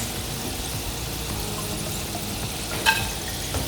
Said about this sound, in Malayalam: എണ്ണയുടെ ആ ഒരു തിളയ്ക്കുന്നതിൻ്റെ ശബ്ദം മാറി.